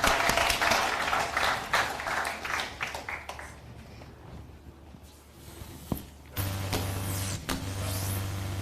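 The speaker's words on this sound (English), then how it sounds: "A warm round of applause." Audience applause at the 2020 Lagos Smart Meter Hackathon, a dense round of clapping that swells at the start, then thins and fades over a few seconds before a steady low mechanical hum takes over.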